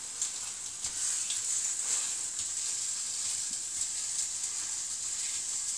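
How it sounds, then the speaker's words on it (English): Meat browning in a frying pan for a jambalaya, a steady high hiss of sizzling fat with faint crackles, constant and close, no talking over it. "So I'm going to brown my meat in my pan."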